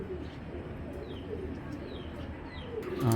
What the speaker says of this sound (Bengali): পুরান জাতের এক জোড়া সাপচিলা কবুতর